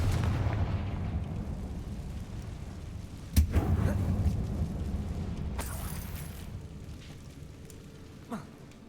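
Confringo blasting spells detonating inside a mine in the Hogwarts Legacy video game: a sharp, loud blast near the middle, another burst later and a smaller one near the end, over a steady low rumbling game ambience.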